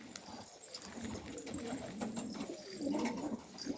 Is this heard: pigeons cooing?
yes